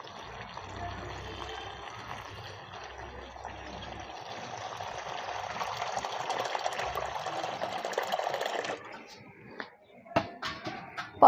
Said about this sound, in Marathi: आपण एक पाण्याने याला मस्त धुवून घेऊ